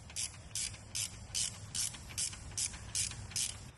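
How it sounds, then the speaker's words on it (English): A ratchet wrench loosening a bolt on a 2020-2022 Ford 6.7 Power Stroke diesel engine, giving about ten evenly spaced, quick close clicks of the pawl with no voices present. "you can feel it through the ratchet whenever it loosens up and it's good to spin all the way out"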